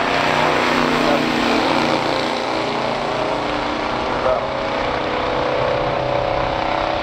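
A 1969 Oldsmobile Cutlass S racing on a track against a 1974 Chevelle, with a loud, steady engine roar sustained close by throughout, a small bump midway, and no pause.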